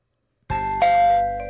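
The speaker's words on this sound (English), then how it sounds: "Saturday morning, and I ring Sachi's doorbell" A doorbell rings in a visual novel game, a clear two-tone chime that starts abruptly after a moment of silence, with the second higher tone ringing out and slowly fading.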